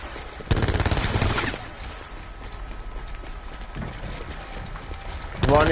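Rapid automatic gunfire in the Blackout shooter game bursts loud and close for about a second, gives way to quieter mechanical clatter under a voice, then a fresh burst erupts at the end.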